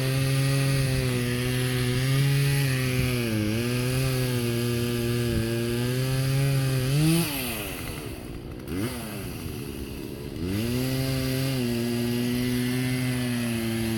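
A chainsaw cuts up a tree outdoors, its engine droning loudly and steadily, dipping and revving as the blade bites, with a brief pause before it picks up again.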